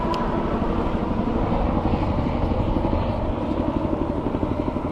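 A helicopter's steady rhythmic rotor thumping and engine drone, loud and continuous throughout, with no voices.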